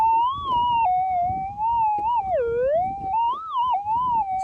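A metal detector out gold hunting around Bendigo gives a steady, high warbling target tone that wavers and bends in pitch throughout, loud and close over faint ground scuffing, with no talking.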